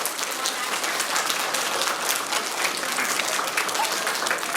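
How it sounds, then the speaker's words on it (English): An audience at a school assembly gives a big round of applause, a dense, continuous wash of many hands clapping that holds steady and loud throughout, with no voices standing out. "All right, let's give them a big round of applause."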